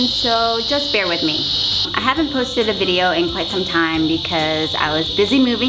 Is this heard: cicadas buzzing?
yes